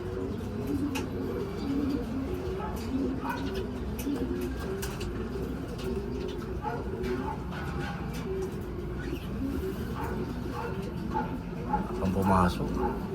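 Racing pigeons coo in a loft during a derby race, soft low murmurs repeating steadily beneath near-constant talk and background noise.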